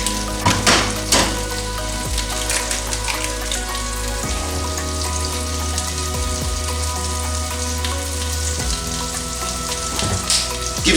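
An egg frying in a pan with allspice sprinkled on top, a steady close sizzle and crackle of hot fat running throughout, with occasional soft pops and a low background hum.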